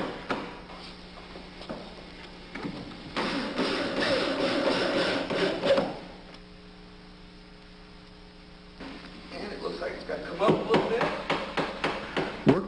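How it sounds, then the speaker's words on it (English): Pounding a part into place with a hammer while building a mini drifter boat: bursts of repeated blows around a pause, with a low mains hum running underneath. "And pound it down or pound it up or whichever other way."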